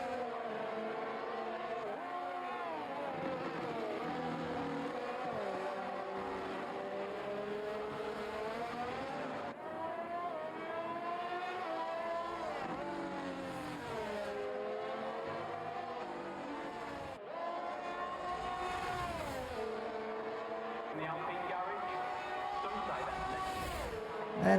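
Race cars roaring down the main straight in a racing video game on a Netherlands track, steady engine drone with rising and falling pitch as gears shift, fairly faint and continuous.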